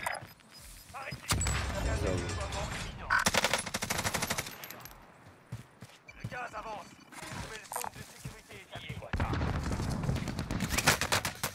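Gunfire between opposing squads in a Warzone match: loud bursts of automatic machine-gun fire come in several long volleys with short gaps between them, and players talk over the shooting.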